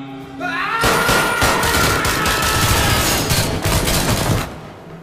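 Gunfire in an action film fight scene during a prison rebellion, a dense loud burst of rapid automatic shots and booms lasting several seconds after a brief quieter lead-in.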